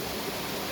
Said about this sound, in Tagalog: nilasap namin yung sarap ng hampas ng tubig galing sa kanyang project